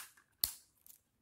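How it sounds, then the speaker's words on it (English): A single sharp snip of scissors cutting crochet yarn, close and clear, after finishing a slip stitch on a short-sleeved lace cardigan; a faint second rustle follows. "I can now cut my yarn"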